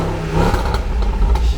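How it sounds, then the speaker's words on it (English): Range Rover Sport L494 engine revving up briefly after a battery replacement, a close, loud rise in engine note over low rumble, no talking. "Give it a rev, Destiny."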